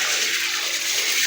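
Rice being poured into heating milk in a cooking pot, a brief steady rushing pour of grains into liquid, close and fairly loud with no voices.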